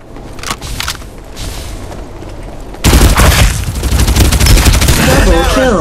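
Gunfire in the shooter game Farlight 84: scattered shots over a rumbling background, then loud rapid sustained bursts of fire that continue to the end, up close and heavy.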